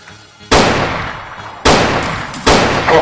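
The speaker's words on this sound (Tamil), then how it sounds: "சீக்கிரம் அந்த துப்பாக்கியில சுடு." Three sharp, loud gunshots ring out about a second apart, each blast trailing off in a long, fading echo.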